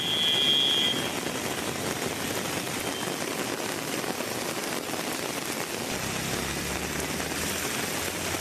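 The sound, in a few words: heavy rain and water flowing on roads in Tamil Nadu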